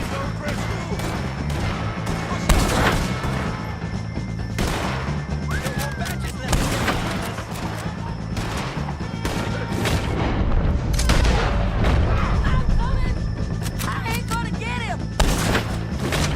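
Heavy gunfire in Red Dead Redemption 2 during a shootout with O'Driscolls, sharp loud shots and booming blasts in irregular bursts across the scene, echoing over a low rumbling backdrop.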